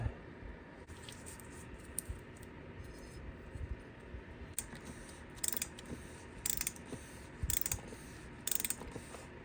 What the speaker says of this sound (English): Now it's going to be interesting trying to tighten this